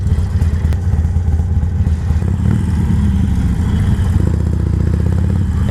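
A Harley-Davidson Iron 883 Sportster bobber's 883 engine runs loud and close, a deep uneven V-twin rumble with mechanical clatter and a slight rise in revs toward the end.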